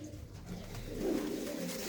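Khatian pigeons, a cock and hen pair, give low rolling coos close by, a soft continuous burbling that swells slightly toward the end.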